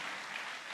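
A church congregation applauding at a Sunday worship service, a steady dense clapping from many hands that fills the room evenly, with no voices heard.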